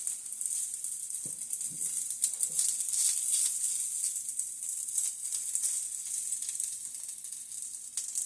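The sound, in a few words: rice frying in a pan, being stirred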